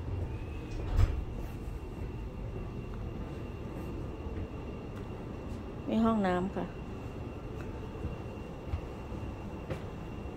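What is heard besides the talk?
inside a moving train carriage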